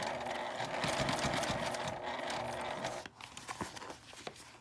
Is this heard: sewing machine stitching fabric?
yes